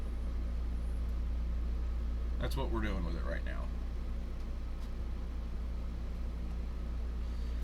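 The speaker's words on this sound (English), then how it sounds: "I apologize about the noise of my air conditioner." A room air conditioner hums steadily in a home during a hot summer, a constant low drone running under a man's brief speech from start to finish.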